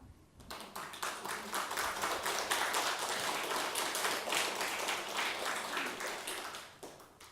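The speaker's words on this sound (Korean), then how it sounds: "할 줄 알겠으면 박수 좀 쳐봐." Dense applause from an audience at a Buddhist dharma assembly, many hands clapping together steadily for about six seconds before tapering off.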